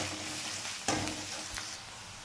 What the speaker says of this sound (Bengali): পেঁয়াজটা বেশ একটু ভাজা হয়ে এসছে